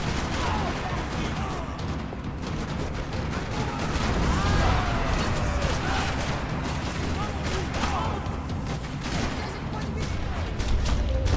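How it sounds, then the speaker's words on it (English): Gunfire in the PS3 video game Max Payne 3, rapid bursts of shots and crashes rattling continuously under a dense mix of game sound, with talking over it. "Rattling with gunfire."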